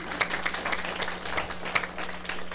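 Scattered, uneven hand claps from a lecture audience, a handful of sharp pops spread over a low, steady background hum rather than full applause.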